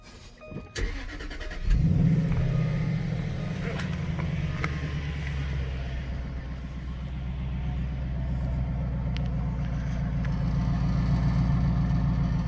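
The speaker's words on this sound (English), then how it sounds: "Let's start it. To start the car, simple process. Just put your finger on the button." A 2008 Jaguar XK with a 4.2 V8 cranks and fires after a push-button start, surging briefly on catch before settling into a smooth, steady, close idle rumble that holds to the end.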